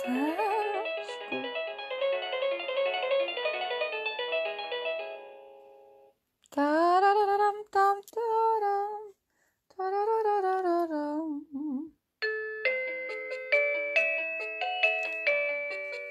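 A wireless doorbell plays several melodic electronic chime tunes in turn, clear and close, with brief silences between them and no talking.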